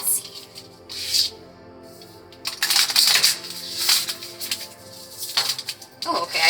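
Tarot cards are shuffled by hand in crisp, rapid bursts of riffling and rustling, close and fairly loud, separated by short pauses and a quiet tonal background.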